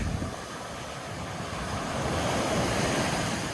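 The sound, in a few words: ocean waves and surf at a beach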